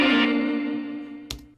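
An electric guitar plays the intro riff, a sustained effected chord with chorus-like shimmer fading slowly, then a short sharp strum near the end.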